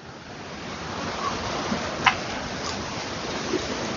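Heavy water surges powerfully past the number 4 dam of the Khardu drinking-water project after rain, a continuous broadband roar with a couple of faint clicks over it.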